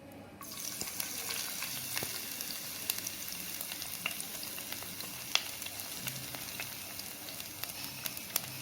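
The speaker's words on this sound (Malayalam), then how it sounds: "അതിലേക്ക് നേരത്തെ നമ്മൾ അരിഞ്ഞ് വെച്ചിരുന്ന ഇഞ്ചിയും വെളുത്തുള്ളിയും ഒന്ന് ഇട്ട് കൊടുക്കുക." Chopped ginger and garlic fry in coconut oil in a pot for a fish curry, making a soft, steady sizzle that starts suddenly and continues quietly with scattered small pops and crackles.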